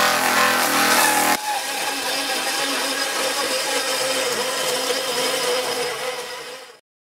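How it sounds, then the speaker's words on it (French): A forge blower driven by a car fan runs with a steady, loud whir and broadband rush, a sharper burst at the start before settling into an even drone that fades out at the end. "Cette forge est alimentée par un ventilateur de voiture"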